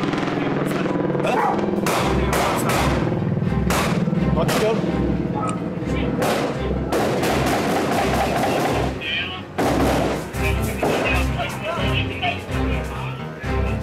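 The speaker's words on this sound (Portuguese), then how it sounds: "Tiros são ouvidos na direção da casa." Gunfire rings out in sharp, broadband cracks, several irregular shots at moderate distance during a police shootout with burglars at a house, under tense talk among officers, with a dog barking at times.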